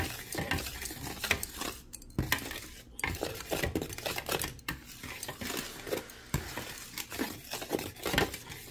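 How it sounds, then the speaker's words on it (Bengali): A spoon works ingredients into flour in a bowl for chicken fish bread, producing repeated scraping, stirring and clinking strokes at close range in an uneven rhythm, with no talking. "এখন সব কিছু দিয়ে ভালো করে আমি ময়দার সাথে মিশিয়ে নেব।"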